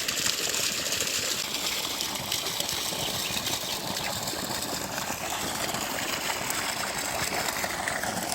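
A village water pump running in the morning with water gushing into buckets, a dense steady rushing and splashing close by, broadband and continuous over a low engine hum, no talk.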